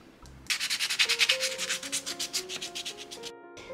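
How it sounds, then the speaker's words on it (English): A baked clay Korok figure being sanded by hand in quick, rhythmic rasping strokes that start after a brief pause and carry on steadily, close and fairly loud, with no talking. "I baked the Korok and gave it a quick sand."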